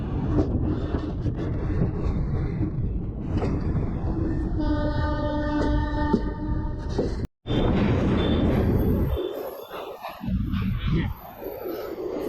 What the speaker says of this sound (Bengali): বারাণসী থেকে বেরিয়ে এসেছি, কাশি স্টেশন ঢুকছে।